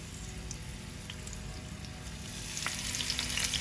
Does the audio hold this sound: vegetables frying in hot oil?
yes